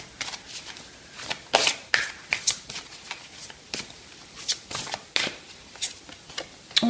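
Chakra oracle cards being shuffled by hand, a close series of crisp riffling flutters and papery snaps in irregular bursts, with quiet gaps between strokes and no talking.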